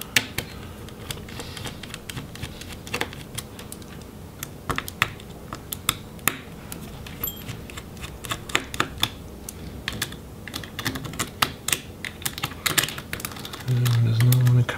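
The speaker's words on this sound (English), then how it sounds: "now we can go ahead and remove those Phillips head screws that are holding in the battery." A screwdriver backs out small Phillips-head battery screws inside a Razer Blade Stealth RZ09 laptop, making sparse close-up clicks and light ticks in a quiet room. A faint voice is heard briefly at the end.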